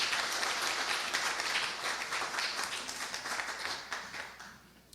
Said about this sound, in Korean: 이상으로 개회사를 해주신 부사장님께 다시 한번 큰 박수 부탁드리겠습니다